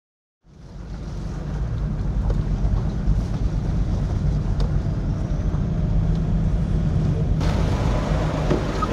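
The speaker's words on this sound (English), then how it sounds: "That wind was so mean." Strong wind blowing outdoors near pine trees, a loud, steady roar of gusts buffeting the microphone that starts abruptly and persists unbroken throughout, with no voices.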